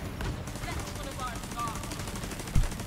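Automated turret in The Division 2 firing a rapid, steady stream of shots at mid distance, ending in one louder thump near the close, under faint talk.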